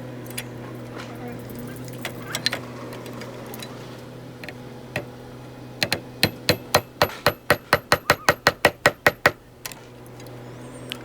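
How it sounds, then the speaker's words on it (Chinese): An aluminium wire-clamp part resting on a hammer head is struck with a second hammer: scattered taps at first, then a fast run of about fifteen sharp, ringing metal blows, close and loud over a low hum. "我把它垫在锤头上，用另外一个锤子把它砸的变形就可以了"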